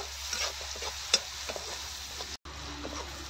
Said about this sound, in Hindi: टमाटर और प्याज अच्छे से ब्राउन हो रहा है